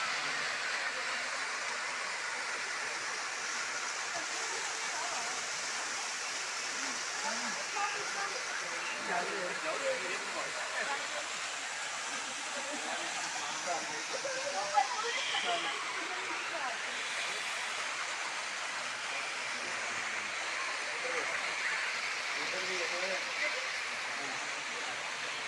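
Namli waterfall at Nathia Gali rushes in a broad, steady roar of falling water that stays loud and constant throughout, with faint voices mixed underneath.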